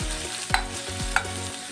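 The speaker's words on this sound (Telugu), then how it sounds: "ఒక కప్పు ఆనియన్, 4 పచ్చిమిరపకాయలు కొంచెం ఫ్రై అవ్వాలి, గోల్డెన్ కలర్ రావాలి." Onions and green chillies fry steadily in a pan for a raw banana curry, a continuous close sizzle broken by two quick scrapes of stirring.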